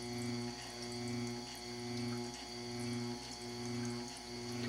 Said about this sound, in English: so you can purge the unit with tap water.